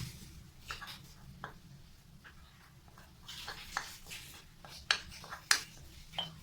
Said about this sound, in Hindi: ये अच्छे से मैं इसमें मिक्स कर रहा हूँ।